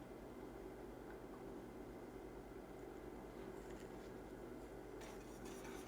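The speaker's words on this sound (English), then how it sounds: "And we're just going to keep on stirring" Steady scraping and clinking of a spoon stirring banana pudding mixture in a pot, with a continuous low kitchen hum beneath and brighter metallic scrapes near the end.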